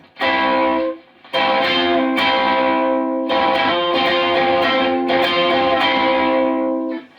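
Vintage electric ukulele strummed through an amplifier with heavy fuzz distortion, loud sustained buzzing chords with a brief pause early on, then ringing on steadily.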